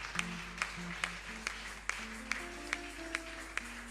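A church congregation claps in a steady rhythm, sharp hand claps landing about twice a second over soft sustained keyboard notes, fairly quiet and distant overall.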